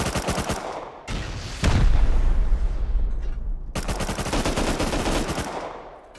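Rapid automatic gunfire bursts in the video game Rust during a raid, loud close volleys separated by a brief gap with a heavier blast, then another fast stream of shots.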